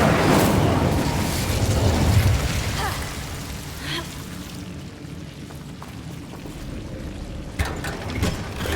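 The Incendio fire spell is cast in Hogwarts Legacy, a loud whooshing, crackling burst of flame that swells then fades into a softer, hissing rumble, with a few sharper snaps later on.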